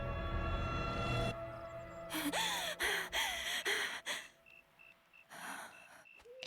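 A character in the Xenoblade Chronicles 3 video game panting out loud, a series of short breathy gasps and sighs, close and clear, followed by a few electronic beeps.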